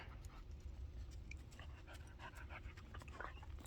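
A dog panting on a homestead on a winter day, quick faint rhythmic breaths over a steady low outdoor rumble, with a few soft higher whimpering tones scattered throughout.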